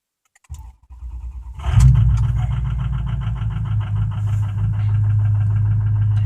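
A 2006 Ford F-350 pickup cranks with a whirring starter for about a second, catches with a loud burst, then settles into a steady, close idle that keeps running to the end.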